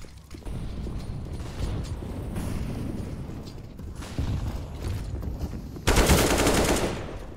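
Gunfire from an esports match of a tactical shooter on Map 2, with Viper on top of Hut: dense, continuous rattling shots and mechanical clacks that swell into a louder burst near the end.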